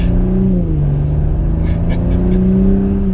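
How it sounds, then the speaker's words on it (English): A 2021 Audi SQ5 Premium Plus engine drones steadily and loudly in automatic mode, pitch rising as it accelerates back up to speed, with a smooth gear change partway through. "And then getting back up to speed in automatic mode."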